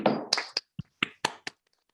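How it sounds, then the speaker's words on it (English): A few people at a steering group meeting clap briefly, giving about seven sparse, separate hand claps in a quiet room with no talk. "A round of applause"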